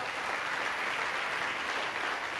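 An audience at a Christian sermon gives steady, sustained applause, dense and even in loudness throughout, with no voices over it.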